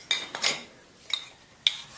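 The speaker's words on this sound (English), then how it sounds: "this clay tool really does work quite well when it's sharpened" A sharpened sculpting clay tool scrapes away clay in four short, distinct strokes with quiet pauses between, each a bright, close scratch.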